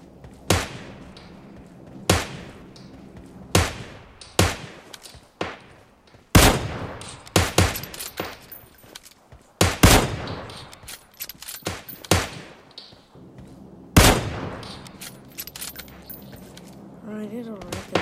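Sniper and rifle shots ring out in PUBG arcade sniper mode, a dozen sharp cracks spaced a second or two apart, some near and loud, with a player talking in between.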